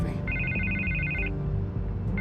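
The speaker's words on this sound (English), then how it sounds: "I can't get the phone to stop ringing." A telephone rings in Batman: The Telltale Series, with trilling electronic ring bursts repeating, clear and fairly loud over a low background rumble.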